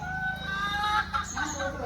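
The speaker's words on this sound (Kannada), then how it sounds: "ಇಲ್ಲಿ ಕೋಳಿಗಳು ಬೆಳೀತದೆ, ಇಲ್ಲಿ ಬೆಳೆಸ್ತಾರೆ." Chickens clucking with a rooster crowing at a Kerala home, the fowl calls close and clear, layered over each other continuously for a couple of seconds.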